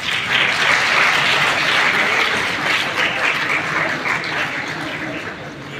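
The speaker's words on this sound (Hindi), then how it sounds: "जोरदार तालियां हमारे मुख्य अतिथि जी के लिए इनके सम्मान में" Audience gives sustained, loud applause for the chief guest at a Mission Buniyad awareness campaign event in Haryana, a dense steady clapping that fades slightly toward the end.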